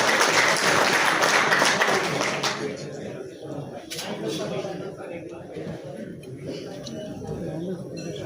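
An audience at a formal hall event claps loudly for an officer coming onto the stage, a dense burst of applause that fades after a couple of seconds into sparse claps and murmuring.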